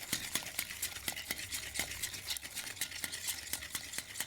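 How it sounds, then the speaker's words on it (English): Gentle whisking of a sweet fruit and ginger jam mixture in a bowl, a soft steady scraping with light repeated clinks of the whisk against the sides, quiet and close. "A bit of gentle whisking"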